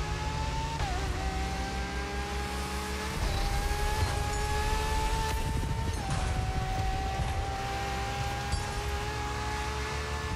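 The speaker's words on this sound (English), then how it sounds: "Let's see what this LaFerrari can do" A LaFerrari races in The Crew Motorfest, its engine droning loud and steady with sharp pitch shifts as it changes gear, close and continuous throughout, with no voices over it.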